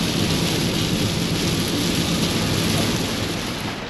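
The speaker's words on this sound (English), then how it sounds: "the storm caught up to me" A thunderstorm pours heavy rain on a car driving near Knoxville, Tennessee, a loud steady roar of rain and rumble that never lets up.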